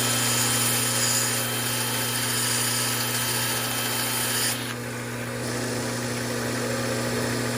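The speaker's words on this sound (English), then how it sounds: "Another way you can sharpen your tungsten is by putting your tungsten in a drill." A steady motorized whir from a power drill spinning a tungsten welding electrode to sharpen it, running continuously with a constant hum, briefly dipping in pitch partway through.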